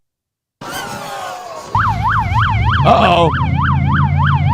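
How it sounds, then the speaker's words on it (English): Police car siren wailing close and loud in a steady rising-and-falling cycle, following a brief burst of engine noise, with a short spoken exclamation near the start. "they're launching a cop car with the sirens running."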